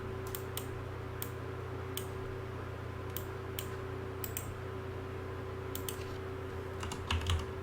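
Keys clack on a computer keyboard in scattered, irregular bursts over a steady low hum, close and fairly quiet, with no voices.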